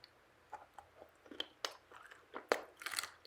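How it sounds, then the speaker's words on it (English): Close, crisp crunching and chewing of a milk chocolate bar with whole hazelnuts, irregular bites and crunches spread over a few seconds with no speech. "I like the crunch of the hazelnut in there."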